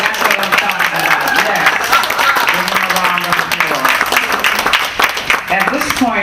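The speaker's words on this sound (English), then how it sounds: "Give them a round of applause." A library audience claps for children at a quilting event while voices and cheering carry over the applause, which stays steady and fairly close throughout.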